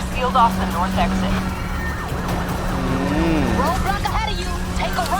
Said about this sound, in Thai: โหรถตำรวจเยอะจังวะ มีฮอด้วยทีนี้